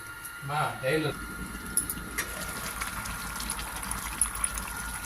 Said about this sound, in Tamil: நல்லா தண்ணி கொதிக்க ஆரம்பிச்சிடுச்சு